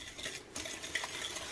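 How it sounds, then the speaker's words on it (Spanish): A utensil stirs brown sugar, white sugar and eggs together in a bowl, making quick scraping and clinking strokes against the side. The sound is close and moderately quiet, with no voices. "Voy a estar incorporando muy bien estos ingredientes"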